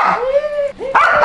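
A dog yelps and whines loudly at close range in a short burst of high, tonal cries with a brief pause between.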